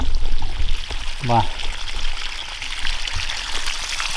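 Water draining out of a hole onto the ground after a tractor wash, a pouring, trickling rush heard up close with a brief splashing burst while someone speaks.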